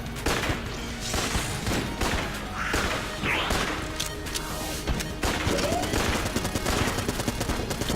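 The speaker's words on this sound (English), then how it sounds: "Now we dodge the missile barrage again." Dense barrage of missiles and gunfire in the bullet-hell game Enter the Gungeon, continuous rapid bursts, crashes and impacts filling the whole stretch at steady high loudness.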